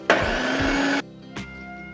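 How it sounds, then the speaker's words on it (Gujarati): A mixer grinder blends peanut-sesame puree with a spoonful of sugar, its motor whirring loudly for about a second, then cutting off before a short second pulse. "તો તેમાં આપણે 1 ચમચી જેટલી ખાંડ ઉમેરશું અને ફરીથી આપણે મિક્સર ચાલુ કરી દઈશું"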